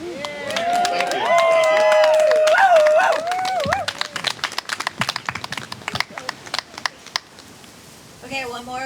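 Following a cycling story night at the Happy Horse Hotel camp-out, a crowd breaks into cheering and whoops, then scattered claps ring out individually and thin toward the end, with a voice briefly speaking.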